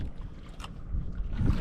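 A small wooden boat moves on open water, with soft splashing, wind rumble and a low engine-like drone throughout, a brief hiss midway and a heavier slosh near the end, all fairly faint.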